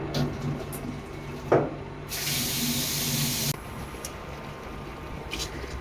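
Water from boiled tapioca being drained off, a steady broadband pour lasting about a second and a half, close and fairly loud, with a brief knock beforehand and light clatter after.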